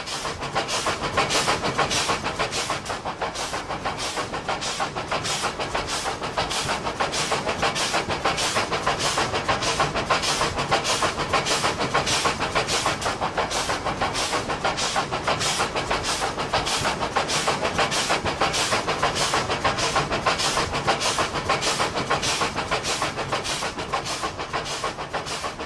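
The Fairy Queen, the oldest working steam locomotive, runs at about 40 km/h through countryside. It gives a steady, evenly spaced chugging and clatter that repeats rhythmically throughout with no voices.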